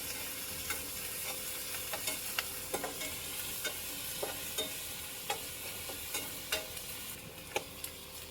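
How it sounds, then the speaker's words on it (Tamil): Onions and curry leaves sauté in a pan under a constant broad sizzle. Faint, scattered utensil ticks from stirring sit on top of it at a low overall level. "பல்லாரி, கருவேப்பிலை, வெங்காயத்தை நல்லா வதக்கிக்கலாம்"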